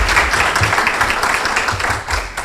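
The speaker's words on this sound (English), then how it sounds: "Let's give Marvin Thank you a again. round of applause." A room full of Kiwanis Club members in Bradenton gives a round of applause, with steady, dense clapping from many hands at an even loudness throughout.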